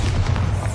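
A Bombarda explosion spell going off in a video game: a deep, sustained booming blast with low rumble that fills the whole short moment, loud and close.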